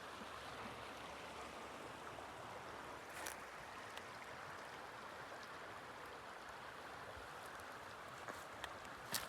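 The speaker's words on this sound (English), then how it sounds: "thought I'd come down here and show you the river right here where we're turning around" Steady broadband rush of the Cossatot River flowing beside a trail bridge turnaround in cold, icy conditions, faint and continuous with a few small splashes or knocks, no talking.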